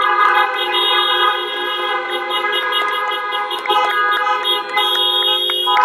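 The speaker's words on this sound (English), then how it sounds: "Let's go ahead and honk our horns and flash our lights." Several car horns honk together in a drive-in tribute to veterans, a dense overlapping chorus of sustained toots and short blasts from many vehicles that carries on steadily with no voices.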